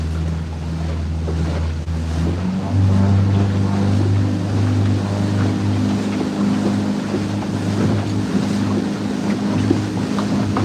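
A fishing boat motors across the Solent at about 10 knots, its engine a steady loud low drone mixed with wind and the slap of waves against the hull.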